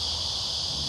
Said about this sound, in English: Cicadas are just going nuts, man.